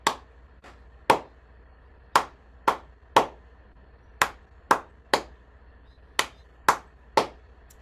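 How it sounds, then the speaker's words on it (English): A music class of dyslexic learners claps out a rhythm from a rhythm card, a dozen or so sharp, close claps in an uneven pattern, alone in a quiet room. "I'll put the rhythm in front of them, and we will clap it."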